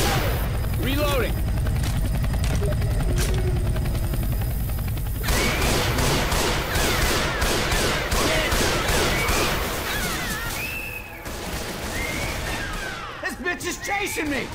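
Dense video game combat: rapid assault-rifle gunfire bursts and a chopping helicopter drone, with voices shouting over the loud, chaotic mix.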